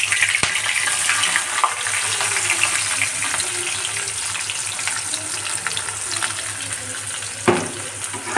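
Chopped onion hits hot oil for a chicken roast, setting off a steady, dense sizzle that runs the whole time, with a sharp utensil clatter near the end.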